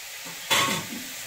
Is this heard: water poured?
no